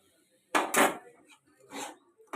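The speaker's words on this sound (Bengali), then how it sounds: "এরকমভাবে নাড়তে থাকবো আস্তে আস্তে" A spoon stirring semolina in a pan with water added a little at a time, a few close scraping and clinking strokes separated by quiet pauses.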